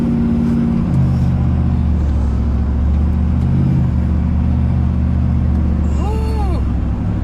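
A Joe Gibbs Silverado truck accelerates on the street with a loud, continuous deep engine roar that builds steadily, heard up close throughout.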